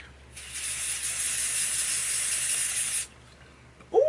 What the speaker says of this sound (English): I'm going to use another layer of Kryolan Fixing Spray